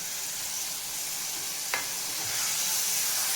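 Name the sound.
soaked masoor dal frying in oil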